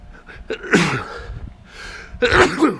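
A sneeze with a sharp intake of breath, followed after a short pause by a second loud, explosive sneeze, close by.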